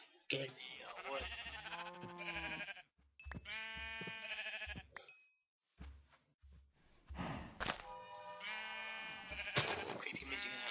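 Repeated sheep bleats from Minecraft livestock during survival gameplay, several wavering calls in bursts separated by short pauses, fairly close and clear.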